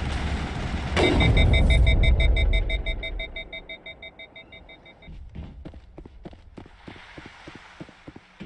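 Base security alarm in the Mass Effect video game at Virmire, a repeating electronic beeping tone that sounds loudly over a low rumble and then stops partway through, with sharp clicks and impacts after it.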